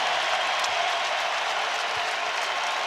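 Crowd applauding at a college basketball game between Iowa State and Arizona, a dense, even wash of clapping and arena noise from many fans, continuous and fairly distant throughout.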